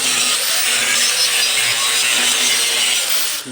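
Angle grinder grinding a clean patch of bare metal on an engine run stand ahead of stick welding, a continuous loud, bright, hissing grind that holds steady close to the microphone throughout.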